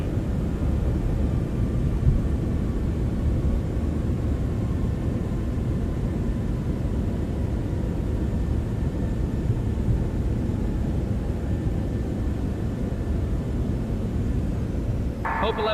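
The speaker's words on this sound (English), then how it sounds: "Reversers are out. Spoilers deployed." A Citation 750 business jet in a flight simulator rolls out after landing at San Jose with thrust reversers deployed and spoilers up, giving a loud, steady broadband roar that runs unbroken throughout.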